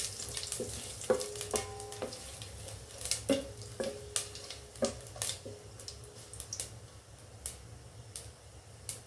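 Cloves, cinnamon and other whole spices frying in hot oil for tempering, a steady low sizzle punctuated by frequent sharp pops and crackles, with a few clinks of a utensil against the pan, close and moderately loud.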